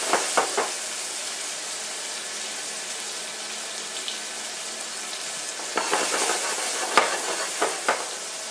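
Mushrooms frying in butter in a pan, a steady soft sizzle with a few sharp stirring scrapes at the start and a burst of louder clatter and spatter near the end.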